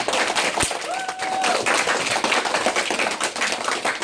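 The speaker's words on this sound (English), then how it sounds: "Give him a round of applause, everyone." An elementary school audience claps steadily in dense applause, loud and sustained, with a brief whistle rising above it early on.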